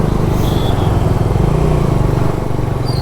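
A 2026 Bajaj Dominar 400 motorcycle with a 350cc engine idling and creeping through a traffic jam, a steady close low engine thrum with faint horns in the background.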